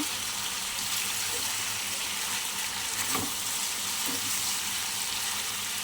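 Gizzard and liver curry frying in a pan with salt added, giving a continuous soft sizzle broken by a few stirring scrapes, and some faint background voice.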